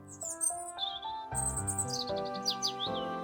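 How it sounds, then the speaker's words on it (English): Birds chirp in the trees overhead at a muddy, collapsed spot, with a layered mix of bright tonal calls and a steady melodic backing throughout, and no talking. "Overhead, the birds chirp in the trees."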